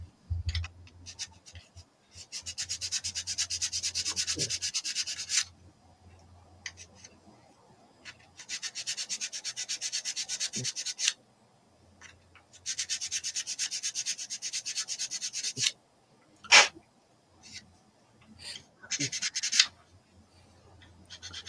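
Hand file rasping on a 3D-printed part, long bursts of steady scraping strokes separated by pauses, close and moderately loud with occasional clicks and handling noise.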